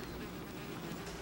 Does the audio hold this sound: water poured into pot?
no